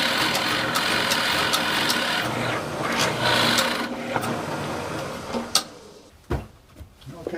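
Drill press boring into a wooden block, a steady mechanical whir running for about four seconds before winding down, followed by a few sharp knocks and clatters as the bit withdraws and the piece is handled.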